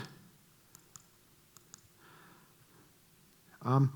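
A few sharp, quiet mouse clicks sound in pairs against a hushed room, followed by a short burst of a nearby voice at the end.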